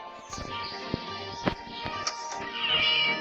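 A cat meows from somewhere close but out of sight while someone searches for it, soft repeated meows over a steady background hum, with occasional knocks and rustling.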